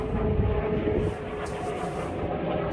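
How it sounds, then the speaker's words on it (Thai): A helicopter passes overhead, a steady, distant whirring drone that holds at moderate loudness and shifts slightly in tone midway, with no talk over it. "เสียงเฮลิคอปเตอร์เนาะ"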